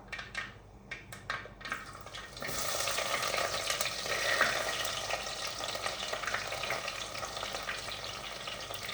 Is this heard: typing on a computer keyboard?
no